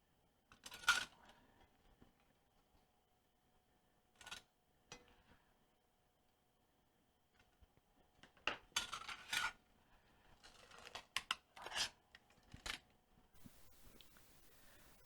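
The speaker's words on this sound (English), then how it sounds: "So now I'm just going to rice the potatoes" Cooked, fork-tender potatoes are pressed through a metal potato ricer for a Finnish sweetened potato casserole, giving faint, scattered metallic clicks, scrapes and rasps in irregular bursts with quiet gaps between.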